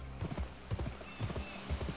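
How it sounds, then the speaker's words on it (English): Horse hooves gallop in the Western video game Gun, a quick, regular clip-clop rhythm of repeated beats, close and moderately loud. "So my horse can't handle some hard riding."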